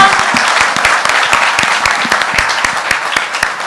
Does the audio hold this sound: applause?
yes